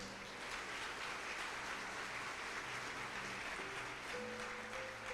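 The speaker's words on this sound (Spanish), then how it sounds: "Dele un aplauso esta mañana al Señor." Steady, dense applause from a church congregation fills the whole stretch, an even wash of clapping with a faint hum underneath.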